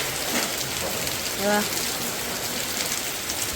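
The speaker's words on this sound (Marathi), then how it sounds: "पाऊस खतरनाक स्टार्ट झाला इथे" Heavy rain pours down steadily at a temple still under construction, a dense, even hiss that stays constant and close throughout, with a brief tonal sound midway.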